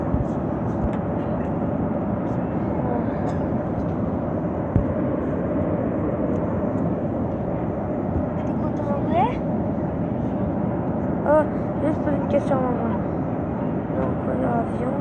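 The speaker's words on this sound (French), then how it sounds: "Donc on a l'avion." An airplane engine drones steadily and fairly loud throughout, a continuous low rumble with a few brief higher whines, and voices speak faintly beneath it.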